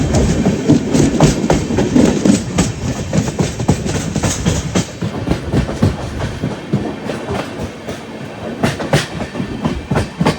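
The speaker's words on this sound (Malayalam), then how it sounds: "അതാണ് ട്രെയിൻ പയ്യെ പോകുന്നത്" Netravati Express rolling slowly along the Konkan railway, wheels giving a steady, close clickety-clack with rhythmic rail-joint beats and carriage rumble throughout, no voices.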